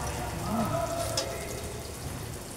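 Garlic and ginger sizzle in a frying pan as a broad, steady hiss that stays close and fairly quiet throughout, with a faint voice briefly heard underneath.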